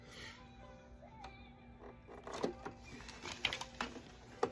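A sewing machine running a straight stitch on a cloth diaper, quiet, with short bursts of rapid mechanical clatter and ticking over a faint background hum.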